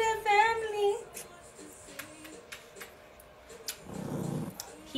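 Puppies growl and vocalize at home, with a short whiny, tonal dog vocalization up front followed by scattered yips and low rumbling growls, fairly close and moderately quiet.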